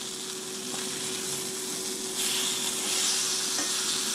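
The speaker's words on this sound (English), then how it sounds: "I like to use something flat to get my sausage up off the bottom the first time I flip it." Sausage sizzling steadily in a preheated pan as it is flipped with a flat utensil, a continuous close frying hiss with a brief scrape near the start.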